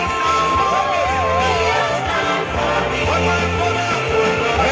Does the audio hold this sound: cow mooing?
no